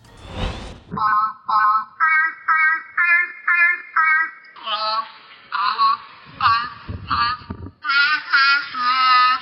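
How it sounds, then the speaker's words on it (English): A grey seal produces a series of short, tonal, voice-like notes that rise and fall in the tune of Twinkle Twinkle Little Star, with a noisy breath at the start. "that's the sound of a seal, singing Twinkle Twinkle Little Star"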